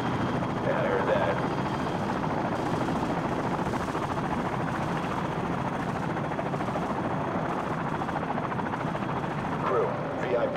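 Helicopters from the video game Call of Duty: Modern Warfare, a steady dense rotor and engine roar filling the whole stretch at constant loudness, with faint bursts of distant gunfire and radio-style voices talking underneath.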